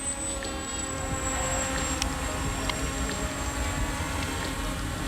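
A Holy Stone HS720E drone flies nearby with a steady high-pitched propeller whine and buzzing motor hum, constant and fairly loud throughout, with no talking.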